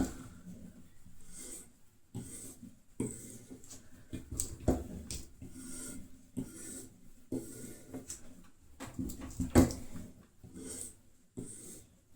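A Victorinox Huntsman knife blade is drawn across an elbor sharpening stone in light strokes to remove the burr, producing soft, close scraping rubs in short repeated bursts separated by quiet pauses.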